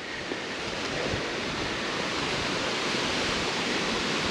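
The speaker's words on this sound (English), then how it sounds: "Probably protect you from this wind." Wind rushes across a rocky mountain stretch of the Appalachian Trail near Wildcat and Cowrock, a soft, steady broadband roar with no breaks, fairly faint and heard alone.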